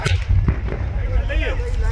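A gas cylinder explosion: a booming blast rings out amid a low, rumbling roar of fire from a burning truck at a gas agency, followed by crackling and a brief whistling tone.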